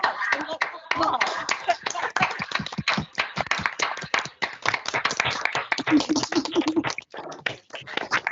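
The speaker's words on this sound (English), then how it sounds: "lots of claps and lots of applause" Dense, overlapping hand clapping from several participants closes an online webinar, a continuous run of sharp claps with some voices mixed in.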